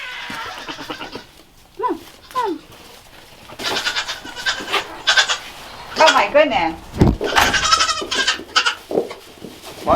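Several goats bleat in high, wavering cries, some close and loud, with someone speaking between and over the calls.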